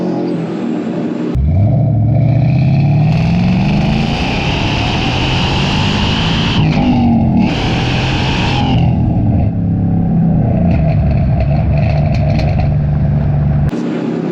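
A supercharged 5.0-litre V8 2012 Ford Mustang GT, a Gen 3 Aluminator build making 580 wheel horsepower, accelerates hard from inside the car, engine and supercharger whine climbing through a gear change with a loud sustained roar.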